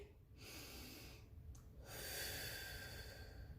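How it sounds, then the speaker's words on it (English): A person takes a deep breath in a quiet room. There is a short intake near the start, another sharp one around the middle, and a longer, fuller inhale near the end, all close and soft. "On the count of 3, we're going to take our deep breath"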